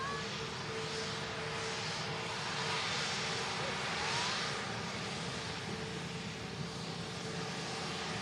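An Atlas Air Boeing 747 taxiing at Manchester Airport, giving a steady, broad engine roar that swells slightly in the middle and holds at moderate distance throughout, with wind-like hiss over it.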